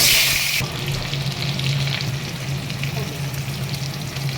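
Potatoes fry in hot oil in a pan after a black cumin tempering, producing a loud, continuous close sizzle that opens with a sharper hissing burst.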